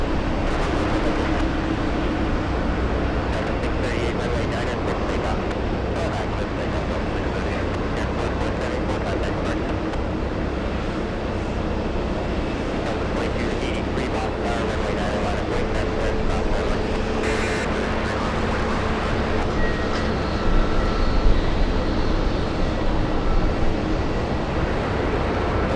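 A Southwest Boeing 737 airliner at Boston Logan International Airport gives off a continuous broad engine roar lasting the whole stretch, swelling slightly near the end, with a voice talking faintly underneath.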